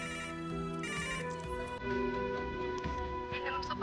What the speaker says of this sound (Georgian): სადულახი რეკავს მუდანიის სახლიდან